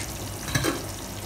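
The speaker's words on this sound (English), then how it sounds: "we'll put in our stockfish" Stockfish dropped into a simmering pot of banga stew, with a brief soft splash over a continuous close bubbling sizzle.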